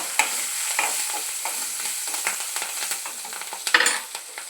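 Green chillies added to hot oil for mango chitranna, frying with a steady sizzle and repeated scraping stirs of a spoon in the pan, close and with no talk.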